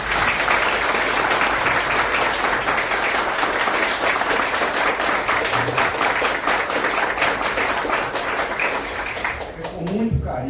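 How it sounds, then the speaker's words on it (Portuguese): An audience gives a standing round of applause at a book launch, honoring a therapeutic community. The clapping is dense and sustained for about ten seconds, then thins and fades out at the end. "eu gostaria de uma salva de palmas"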